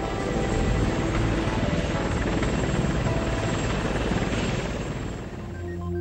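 A Yakovlev Yak-24 tandem-rotor helicopter's rotors drone and chop continuously overhead, loud and steady, with a dense engine whine underneath.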